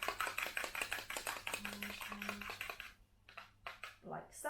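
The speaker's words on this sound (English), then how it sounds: "with a fork, I'm just going to whisk the eggs just to break up the yolk" A fork whisks eggs in a bowl for a Dutch apple cake batter, giving rapid rhythmic clinking taps that run steadily for about three seconds, then a few scattered clicks and quieter handling.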